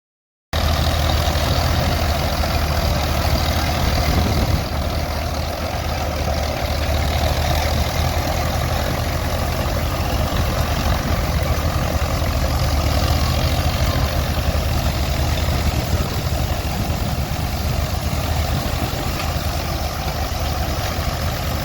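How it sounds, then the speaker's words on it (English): A vintage tractor engine drives a threshing machine at a harvest demonstration, a steady, loud, low rumble that runs continuously with a constant droning hum and no pauses. "Pulling a rumbly threshing machine, believe it or not."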